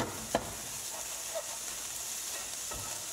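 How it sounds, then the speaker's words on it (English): Ground turkey browning in a pan for turkey green chili, a soft continuous sizzle with a few spatula scrapes and knocks, close and fairly quiet, no talking. "I'll keep moving it around a little bit, getting it all nice and brown"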